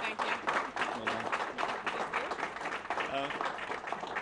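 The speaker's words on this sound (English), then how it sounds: "Give her a big round of applause." Audience applauding at a press conference for a young Everest climber, steady dense clapping throughout, moderately distant, with a voice speaking over it.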